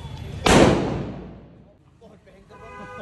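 A single loud firecracker bursts at a Govardhan Puja celebration, a sharp close bang followed by a long fading rumble, then faint voices and background chatter.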